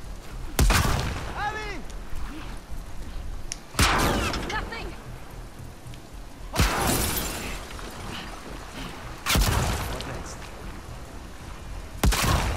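Gunfire in the video game The Last of Us Part II: five loud, sharp bangs about every two to three seconds, each with a short ringing tail, over a low game background.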